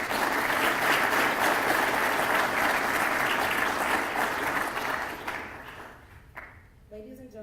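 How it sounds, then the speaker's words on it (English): A large audience claps loudly at a military service celebration with an Army band present, steady applause that fades toward the end. "give a round of applause"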